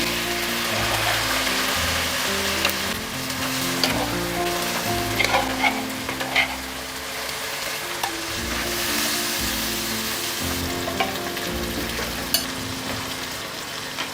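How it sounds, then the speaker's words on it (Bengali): Goat trotters sizzle loudly in hot oil while being stir-fried for nihari, a continuous crackling fry broken by the scrape and clatter of a spoon stirring the pan, with no talking. "আর এটা আমি কষাইতে থাকবো কষাতে কষাতে যখন লাল হয়ে আসবে"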